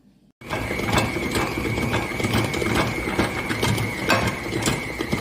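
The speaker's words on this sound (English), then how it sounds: "I swear this just became the stand mixer from hell." A stand mixer fitted with a dough hook kneads sourdough for sliced bread, its motor holding a steady high whine while the gears clunk and rattle rhythmically, close and loud, with no one talking.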